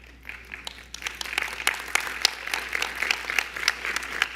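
Applause in a church congregation during a sermon, with many hands clapping in a fairly soft, uneven patter that builds slightly and continues throughout.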